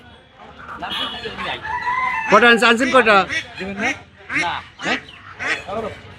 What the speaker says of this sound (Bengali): এবং প্রচুর কিন্তু হাঁস মুরগি ওঠে এখানে দেশি হাঁস মুরগি ওঠে